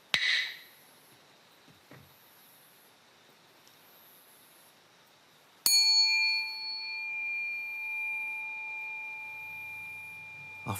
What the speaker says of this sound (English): a bell indicates a short break in which tired limbs can be rearranged before the next session.